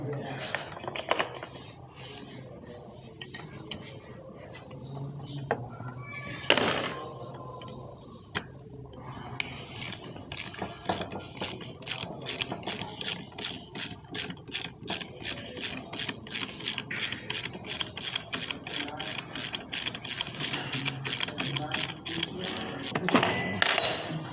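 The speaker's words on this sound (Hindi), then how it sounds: "ये आर्मेचर खोलने के लिए हम इसको अभी स्टार्टर मोटर को खोलते हैं।" Tools dismantling a Swift Dzire starter motor make close, rapid ticking and rubbing clicks that build into a fast regular ratchet-like rhythm, with someone talking over parts of it.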